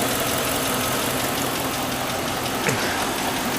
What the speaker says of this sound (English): Now you can probably hear the ticking in the engine